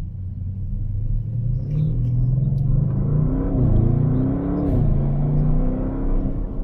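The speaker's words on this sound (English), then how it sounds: "the gear shifts" An Audi RS6 Performance engine rumbles up close on the Kyalami Grand Prix Circuit, its pitch climbing and dipping as it revs through successive gear changes, with no voices.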